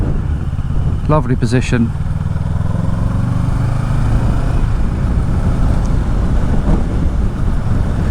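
A 2021 Kawasaki Ninja 650 KRT with an Akrapovic exhaust rides along, its engine droning steadily and loud close up under wind rumble, while someone speaks briefly.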